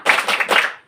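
A classroom group doing a rhythmic spirit clap, a quick burst of several loud, close claps in a short rapid pattern that trails off.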